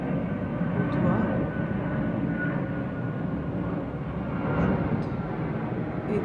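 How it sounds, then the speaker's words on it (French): An airplane passes near Brussels Zaventem airport, a steady low engine rumble and roar filling the background for several seconds, swelling slightly and indoors-muffled. "excusez-moi pour le bruit, hein, c'est les avions."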